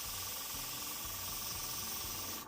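Turquoise spray paint hisses from a can onto a wire dragonfly in a continuous, close, even spray with faint low rumbling underneath.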